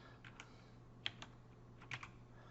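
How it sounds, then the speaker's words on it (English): Soft, sparse keystrokes on a computer keyboard while entering text in a design program, a few separate taps and a small cluster, close and quiet against a low steady hum. "I'll start typing here"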